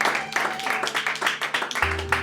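Audience clapping for the cameraman at a church gathering, a short burst of scattered applause with a voice speaking over it.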